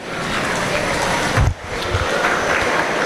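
Applause from a crowd ringing around a swine show ring as young exhibitors lead their pigs out, a steady loud wash of clapping with a brief dip partway through.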